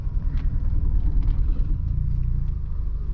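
Manual car engine idling in first gear with the clutch held at half engagement, a steady low rumble close by with faint mechanical ticks, no voices over it.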